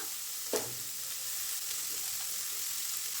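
Garlic sizzles in hot oil as a tempering for a stir fry of vegetables with carrots, a steady close frying hiss with one brief sharper crackle near the start.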